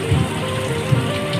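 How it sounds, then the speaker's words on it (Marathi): Steady rain patters on surfaces outdoors, a continuous close hiss with scattered heavier drops and no voices. "आता थोडा कमी झालाय पाऊस."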